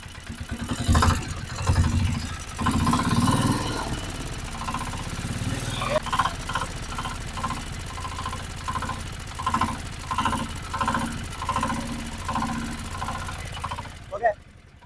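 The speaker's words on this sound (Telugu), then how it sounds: "ఇంజన్ బీడింగ్ చూసారా ఎలా ఉందని, స్మూత్గా ఉంది" A Piaggio Ape Xtra auto rickshaw engine idles smoothly and steadily with a rhythmic low chug while a person talks over it nearby.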